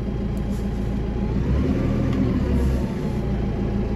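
Deutz 62 tractor engine running on its hand throttle, a loud, steady mid-pitched drone held near the listener with slight swells in pitch and no talk over it.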